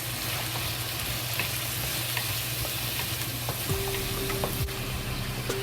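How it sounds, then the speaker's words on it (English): Potatoes and pork fry in a pan with a steady sizzle, stirred now and then, with a low hum underneath throughout. "Just fry it."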